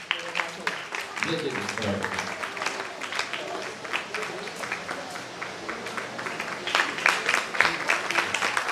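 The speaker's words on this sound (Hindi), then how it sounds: "जोरदार तालियां।" Congregation applause during a Sunday holy communion service, a sustained round of clapping from a crowd, mixed with a voice speaking over it and swelling again toward the end.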